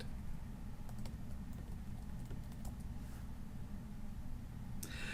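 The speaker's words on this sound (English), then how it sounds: "We're going to type in the words ID equals contact." Computer keyboard being typed on while entering HTML code, a few faint, sparse key clicks over a steady low hum, with a short burst of quick keystrokes near the end.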